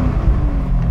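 Chevrolet Camaro SS V8 heard from the cabin: a steady, deep idling rumble with low throbbing pulses, close and even, without speech.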